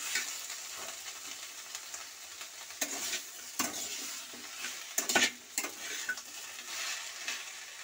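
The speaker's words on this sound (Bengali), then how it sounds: "লাউ শাকের ডাঁটা বেশি নাড়বো না, হালকা নাড়বো।" Bottle gourd stems stirred lightly in a pan, salted and beginning to release water, give a steady soft sizzle with occasional scraping strokes of a spatula against the pan, close and alone.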